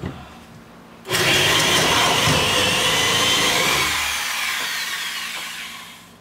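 A power drill bites into wood with a sudden loud whirring grind that holds for a few seconds, then eases and fades as the bit spins down.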